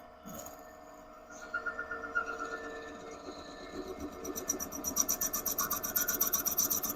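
A cutter in a Fobco pillar drill bores into a hardwood bearing block, giving a rapid rhythmic rasping chatter that starts quietly and grows louder and steadier toward the end.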